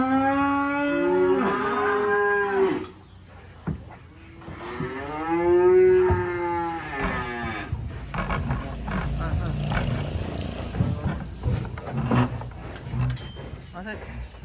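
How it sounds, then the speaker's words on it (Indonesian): Several jumbo black sacrificial cattle low and moo loudly and close by as they are unloaded from a livestock truck, long drawn-out calls at the start and again mid-clip, followed by shuffling, thumping and vehicle rumble. "Nih penurunan, masih ada 2 ekor sapi jumbo"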